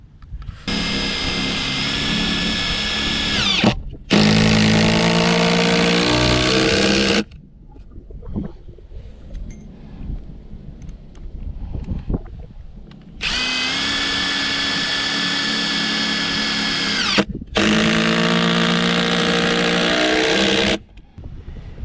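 Cordless drill driving 4-inch Sabre construction screws into pole barn girts, four loud sustained whirring bursts in two close pairs, each ending as the screw seats, with quieter handling noise between.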